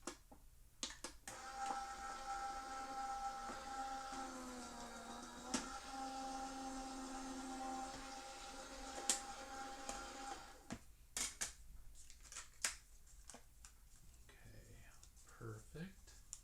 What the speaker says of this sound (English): we will run this through the die cutting machine really quick